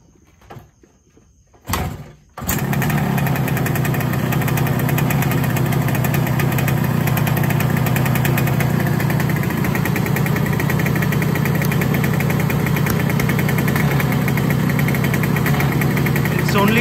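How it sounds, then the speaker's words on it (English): A Yamaha RD 350 motorcycle engine idles unevenly while firing on only one cylinder, a loud, steady, rough drone that starts abruptly after a brief quiet and a short clatter, then runs on continuously. "Only firing on one cylinder now."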